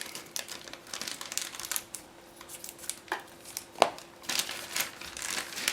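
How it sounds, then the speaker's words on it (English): A plastic bag around a Zoukei-Mura 1/32 Ta 152H-0 model kit being cut open, with close crinkling and rustling plastic and a few sharp snips and clicks over about six seconds. "Just give me a second to cut through this plastic bag."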